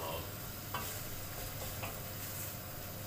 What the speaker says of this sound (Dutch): En gezellig koken met Walter.